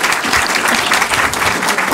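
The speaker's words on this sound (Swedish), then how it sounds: "Då får vi tacka den här panelen med en applåd." Audience applause at a Swedish panel discussion on job transition agreements, a dense, steady wash of many hands clapping loudly and close throughout, with no talk over it.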